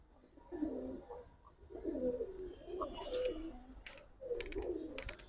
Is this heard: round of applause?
no